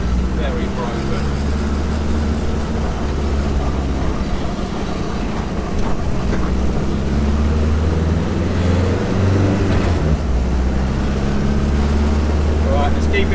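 A boosted engine held at low RPM produces a steady, loud, low rumble that runs unbroken throughout, with a voice talking over it.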